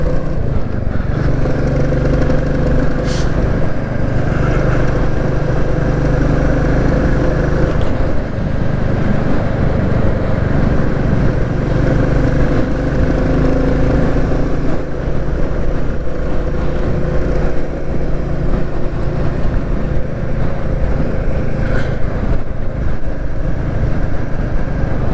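A single-cylinder Royal Enfield Classic 350 motorcycle engine thumps steadily while riding, a loud continuous rumble with slight shifts in revs and wind noise throughout.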